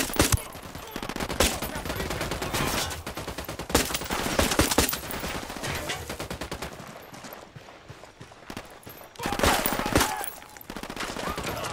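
Sustained firefight in Ghost Recon Wildlands with bursts of automatic gunfire and scattered single shots, some close and loud, others softer, with a brief lull before heavy firing resumes.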